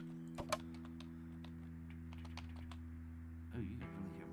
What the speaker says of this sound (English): Oh, you can really hear my keyboard.